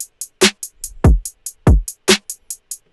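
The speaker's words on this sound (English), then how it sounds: "So together the kick, claps, the snare and the hat sound like this" A punchy electronic drum loop: booming kicks, sharp claps and snare hits over a quick ticking hi-hat, looping in a tight swung rhythm.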